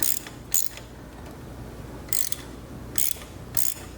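A ratchet turning a back tap in stripped spark plug threads gives a few short, sharp clicking bursts spaced irregularly over a quiet mechanical background, close and distinct.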